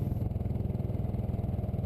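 A motorcycle with over 30,000 km on it runs steadily while being ridden on an autumn trip in Catalonia, its engine giving a close, even, rapid pulsing throb with no talk.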